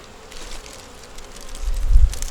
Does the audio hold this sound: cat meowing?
no